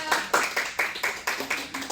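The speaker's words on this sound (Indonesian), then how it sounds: "tepuk tangan dong untuk Nesha" A class in a classroom claps in unison for a student, short sharp rhythmic claps about four per second, with voices present.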